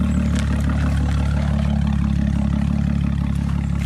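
A wrecked-then-rebuilt 2019 Ford Raptor's engine and exhaust rumble loudly and close, a deep steady idle-like drone with a throbbing pulse that holds unbroken for the whole stretch.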